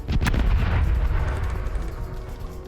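Ship cannons fire in the pirate video game Corsairs Legacy, a loud booming blast with a short burst of shots at the start, then a rumbling decay that fades over the next couple of seconds.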